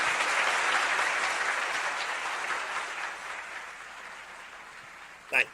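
Canned applause sound effect triggered during a live Funky Friday show, a steady wash of clapping and cheering that swells loud at once, then slowly thins and fades over several seconds, ending with a brief sharp knock.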